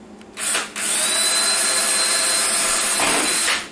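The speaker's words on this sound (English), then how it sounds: "Okay, so I'm going to test drill something." A power drill whines loudly and steadily, starting with a short burst, then running continuously for nearly three seconds before stopping.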